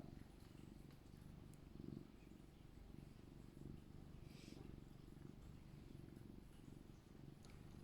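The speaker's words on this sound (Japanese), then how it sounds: "でもご機嫌だな、ゴロゴロ言って" A contented nine-year-old house cat purring steadily and close up, a soft continuous rumble with gentle rhythmic pulses, quiet throughout with no other sounds over it.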